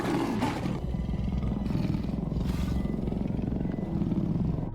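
A wild lion lets out a deep, loud rumbling roar at close range, rising and swelling in several throaty pulses over a few seconds in the open bush.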